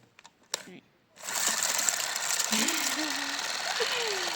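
Electric kitchen mixer switched on, blending ingredients with added cocoa: after a few brief clicks and a silent pause, a steady whirring motor hum sets in and runs continuously at moderate loudness until the end.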